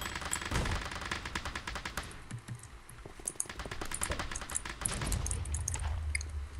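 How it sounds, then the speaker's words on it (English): Rapid full-auto gunfire in a Minecraft shooter game, dense crackling bursts that run almost without pause, a brief lull near the middle before the stream resumes, loud and close with no voices. "Full auto suppressive fire"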